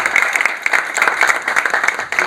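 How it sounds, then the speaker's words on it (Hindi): A crowd at an Indian textile industry week event claps loudly in a short, dense burst, many hands beating together close by without any voices over it. "तालियां बजाइए इसके लिए।"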